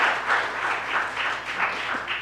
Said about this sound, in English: I think we need to give Mrs. Nave a round of applause